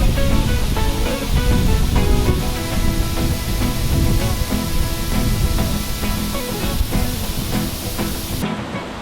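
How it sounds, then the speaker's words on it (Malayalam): A waterfall at Kanthalloor in Kerala's hills pours in a heavy, continuous roar of falling water, close and loud throughout with no breaks and no voices. "ഇത്രയും നല്ലൊരു വാട്ടർഫോൾ എൻ്റെ ലൈഫിൽ ഞാൻ കണ്ടിട്ടില്ല"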